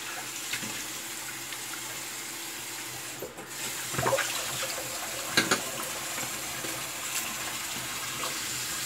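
A tap runs steadily while something is rinsed under it, during a wet shave with tallow soap, with a few small knocks and splashes over the flow and no talking.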